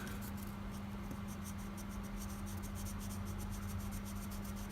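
Pencil shading by hand over a knife file-work pattern drawn on paper: a steady, soft scratchy scribble running continuously up close with no talk.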